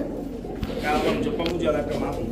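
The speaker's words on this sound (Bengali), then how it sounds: "রামপুরি একটা মাদি কবুতর" Soft, low cooing from a Rampuri female pigeon close by, mixed with a murmur of voices talking.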